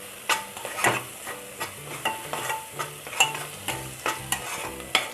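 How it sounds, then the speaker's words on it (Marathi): Masala spices sauté in a pan for moong dal aamti, a spatula scraping and stirring in a regular rhythm of about two strokes a second over a bright, constant sizzle, close and clear. "3-4 मिनिटं आपण मसाला चांगला परतवून घेऊया"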